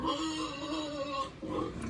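Pig grunting and oinking on a small farm, a steady run of close, loud grunts filling the whole two seconds with no talk over it.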